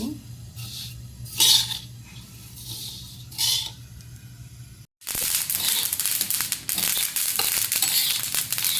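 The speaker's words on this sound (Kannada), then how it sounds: "ಉರಿ ಮೀಡಿಯಮ್ ಇರಲಿ, ಚಟಪಟ ಅಂತ ಸಿಡಿಬೇಕು" Flax seeds dry-roasting in a pan over a medium flame, first giving a few scattered bursts and then, after a brief cut, a dense continuous crackle and popping close up.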